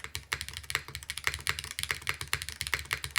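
Fast, steady typing on a Meletrix Dyna TKL mechanical keyboard with cork plate foam, producing close, crisp keystroke clacks in a quick, even rhythm with no talking.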